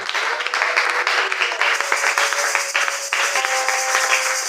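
A church congregation applauding to acclaim the Lord, dense steady clapping from many hands filling the room for several seconds, with a sustained tone running underneath.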